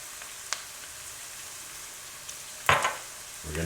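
Softened onions, garlic, thyme and Italian seasoning sizzle in a pan, a low steady frying hiss with a few sharp crackles and a brief stirring scrape near the end.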